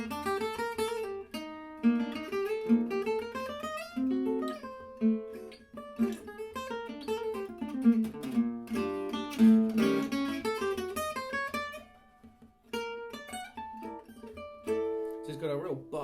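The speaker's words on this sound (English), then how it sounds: "This is a lovely Selmer Macaferry inspired guitar made by Rob Aylward in Scotland." A Selmer Maccaferri-style gypsy jazz guitar built by Rob Aylward in Scotland, played acoustically: bright, punchy plucked single-note lines and strummed chords ring out close and clear, with a brief pause near the end before the playing resumes.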